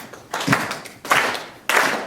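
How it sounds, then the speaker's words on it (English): Three separate bursts of hand clapping from a group of people, each a short flurry of sharp claps that rings on briefly, joining in call and response with a leader. "just start clapping your hands like this."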